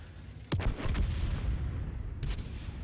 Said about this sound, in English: This is obviously a common spot for artillery to land.